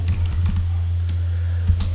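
A terminal command is typed on a computer keyboard, a short run of close, crisp keystrokes in uneven bursts over a steady low hum, with no talk.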